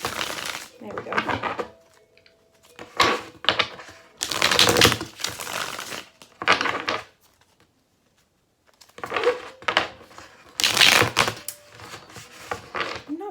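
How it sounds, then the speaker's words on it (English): Tarot cards being shuffled in bursts of rapid papery riffling and clacking, several short bouts separated by pauses, close and fairly loud. "I'm not very good at shuffling today."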